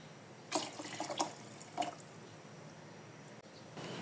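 Water splashes into a pot of carrots and cabbage for spaghetti soup, a few short pouring bursts and splashes at close range, then quiet.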